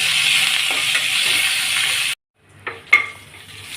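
Steady hiss of a tempering of onions, mustard seeds and cumin frying in hot oil cuts out abruptly, then returns more quietly with a couple of sharp clinks and crackles.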